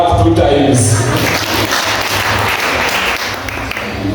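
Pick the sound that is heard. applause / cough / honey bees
applause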